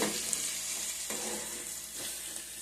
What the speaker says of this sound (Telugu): కోసుకున్న దీంట్లో వేసేస్తాము బాగా ఏగాలి